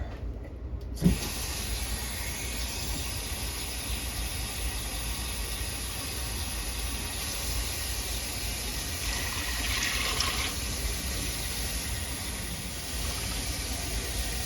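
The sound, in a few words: filling crock pot with water from tap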